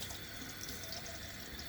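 Water from a tap runs into a shaving soap bowl, rinsing out old lather, a steady, quiet splashing stream that continues without pause through the short stretch.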